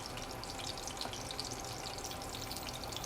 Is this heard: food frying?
yes